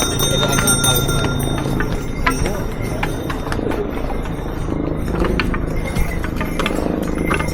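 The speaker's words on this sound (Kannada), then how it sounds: "ಇಲ್ಲಿ ಆಲ್ಮೋಸ್ಟ್ ಎಲ್ಲ ಕುದುರೆನೇ ಇಲ್ಲಿ." Horse hooves clip-clop steadily on the crowded pilgrimage trail to Kedarnath, with faint jingling of tack and voices mixed into the constant outdoor noise.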